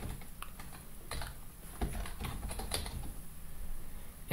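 Close, rapid clicking of computer keyboard keys as text is entered in a terminal text editor, irregular bursts of keystrokes with no talk.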